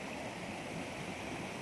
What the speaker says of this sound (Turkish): Akan bir dere.